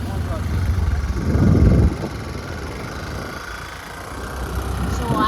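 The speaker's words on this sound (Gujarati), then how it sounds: "એક્ટિવા લઈને જઈ રહ્યા છીએ" A small Activa scooter engine hums steadily while riding in Vadodara, swelling briefly louder, with a voice speaking over the motor.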